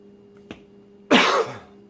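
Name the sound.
coughing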